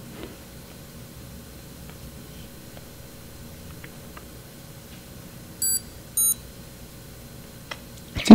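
A Trakr Bravo GPS tracker gives two short, thin electronic beeps in quick succession after its clear button is pressed, small and clear over a quiet room hum, followed by a handling knock.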